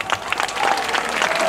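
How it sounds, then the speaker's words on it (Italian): Audience applause at a live outdoor show in Vitorchiano: a crowd claps in a dense, continuous patter that swells slightly, fairly close, with a faint voice mixed in. "il pubblico fa un grande applauso"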